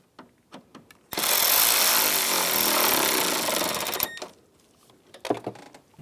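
A power tool rattles loudly for about three seconds, snugging down the mounting bolts on an AC condenser in a 2009-2013 BMW 328i xDrive, with a few light knocks of handling before and after.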